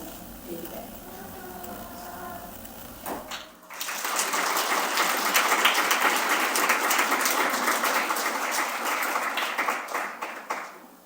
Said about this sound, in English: one more round of applause, please, for all our amazing student presenters